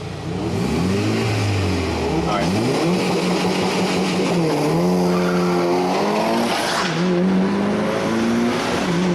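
Racing cars rev hard and their tires squeal and skid, with engine pitch rising and falling in repeated sweeps, loud and close, while a voice talks over the action.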